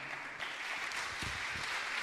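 A church congregation claps together in a sustained burst of applause, a dense, even patter of many hands that fills the room and holds steady throughout.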